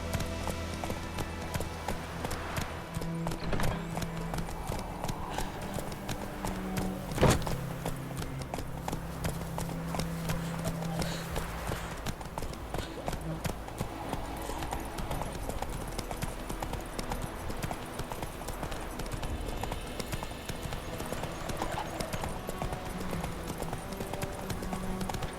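Roach, a horse in The Witcher 3, gallops steadily with rhythmic hoof clip-clops throughout, close and even, with a brief louder thump partway and faint background game ambience.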